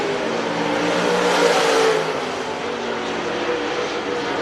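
Hot rod race cars accelerate hard down the back straightaway of a racetrack, a loud continuous engine roar that swells briefly and then holds steady, close and alone.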